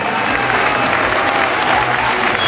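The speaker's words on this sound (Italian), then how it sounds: "Applauso che meriti." Loud, dense applause from a crowd at an Italian blues event after a singer's performance, with a voice faintly mixed in.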